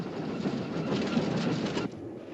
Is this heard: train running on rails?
yes